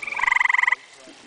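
A tree frog gives one close, loud croaking trill made of rapid pulses lasting under a second, then falls quiet.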